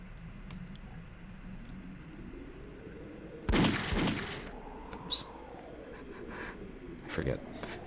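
Gunshots in a horror video game firing silver bullets: a loud burst of sharp shots near the middle, then a few more single cracks, over a low droning game ambience with talking.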